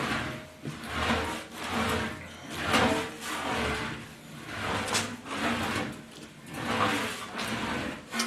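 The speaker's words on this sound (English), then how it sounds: "Very light pressure on the wheel, and I'm just going to planish everything out, kind of relax the panel." An English wheel planishes a steel Willys CJ5 fender panel under light pressure: smooth rolling, rubbing strokes swell and fade in a regular back-and-forth rhythm, close and moderately loud, with no talking.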